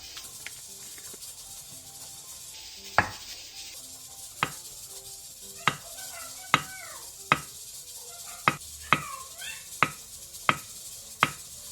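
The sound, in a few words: slicing soft tofu into 2 cm thick rounds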